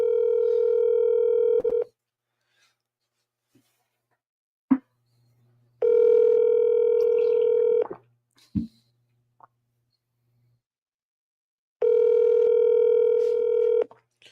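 A telephone dial tone hums steadily in three separate two-second stretches, separated by silence and a few sharp clicks from handling the phone or dialing.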